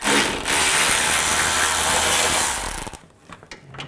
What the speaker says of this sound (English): Or you can take this nut off over here. Just use a 10mm socket.